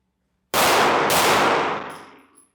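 A single loud, close gunshot fired on command at close-quarters target training, a sharp broadband blast with a second report about half a second later, then a ringing decay over roughly a second.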